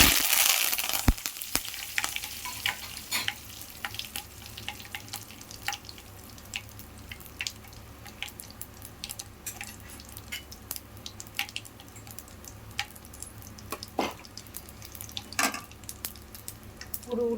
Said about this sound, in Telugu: కొంచెం కరివేపాకు వేస్తాను